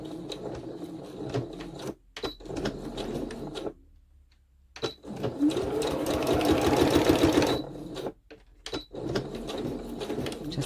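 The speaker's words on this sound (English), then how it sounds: "I'm just going to sew this little end bit here" A sewing machine runs in close, rapid bursts while stitching the end of a craft tag folio, with a short pause and some handling noises between the runs.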